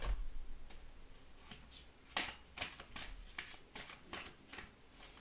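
Oracle cards being shuffled during a tarot reading, a series of crisp riffling and flicking bursts that come in an uneven rhythm, close and fairly quiet, with no one talking.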